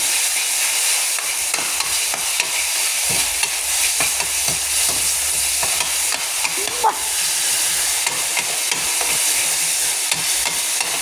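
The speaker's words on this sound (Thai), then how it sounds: "ผัดกะเพราหมูสับแบบแห้ง ๆ นี่ หอมหอมหอมมากหอมมาก" Minced pork stir-fried with holy basil and oyster sauce in a hot pan, a steady close sizzle with scraping stir strokes throughout, no voices.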